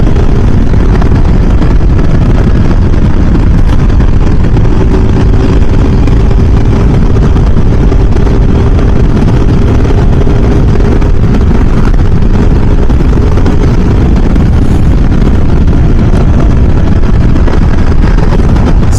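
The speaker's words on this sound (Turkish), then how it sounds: "Bak 90'la gaza çöktüm. Yine hızlanıyor." A Yamaha Xmax 250 scooter, its oil-burning engine freshly rebuilt, runs at full throttle from about 90 km/h, a loud continuous drone buried in heavy wind roar for the whole stretch, with no talk.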